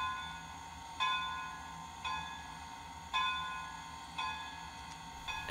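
Bell on a model train layout, sounded from a TCS Wi-Fi throttle: five evenly spaced metallic dings about one second apart, each ringing briefly over a faint steady background hum.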